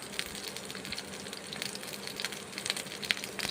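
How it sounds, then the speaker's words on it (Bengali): Eggplant slices rubbed with turmeric and salt sizzle steadily in hot mustard oil, a constant crackling fry with occasional sharper pops and no voices. "দু পিঠ ভালো করে বেগুনগুলোকে ভেজে নেব"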